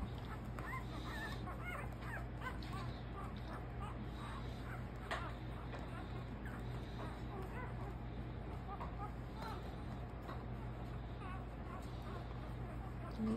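Newborn puppies in a whelping pile whimper, yip and squeak almost continuously, their small high cries overlapping close by, with a soft human voice murmuring underneath.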